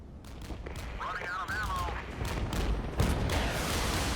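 Artillery fire in the strategy game Regiments, with a dense string of booming impacts and crackling shots rolling on under a faint whistling tone, one heavier blast near the end, sounding fairly distant and continuous.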